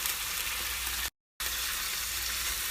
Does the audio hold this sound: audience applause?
no